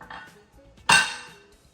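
Kofta balls made with bottle gourd and gram flour are dropped into a metal steamer pot, giving one sharp metallic clank that rings out and fades. Softer kitchen handling noises come before it.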